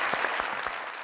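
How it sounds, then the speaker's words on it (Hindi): A brief burst of steady applause from a talk-show audience after a gift hamper is awarded, full and even with a few sharper claps standing out. "इनके लिए बहुत सारी तालियां।"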